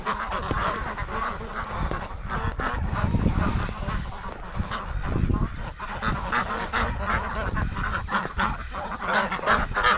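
Pekin and Muscovy ducks in a breeding flock call continuously with loud overlapping honks and quacks, close by and busy throughout, with no talking.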